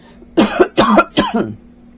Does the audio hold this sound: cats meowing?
no